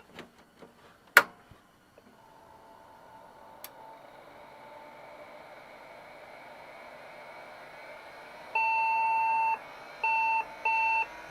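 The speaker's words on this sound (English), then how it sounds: "we got our angry beeps" A few clicks and a low hum, then a computer's startup error beeps: one long electronic beep followed by two shorter beeps, fairly loud and steady in pitch.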